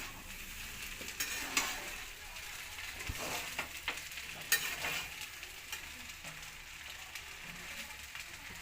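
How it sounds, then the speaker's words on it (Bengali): Pasta being stirred and fried in a wok with sautéed vegetables and spices gives a soft, continuous sizzle, broken by light scraping stir strokes at irregular intervals. "আমি পাস্তাটা দিয়ে নাড়ছি"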